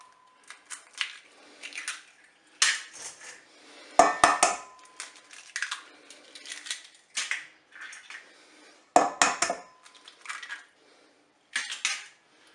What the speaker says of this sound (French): je vais casser les œufs.